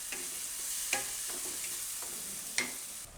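A fenugreek and tomato curry with fresh coriander simmering in a pan, giving a soft constant sizzle with a few clear spoon scrapes and taps as it is stirred, close but fairly quiet.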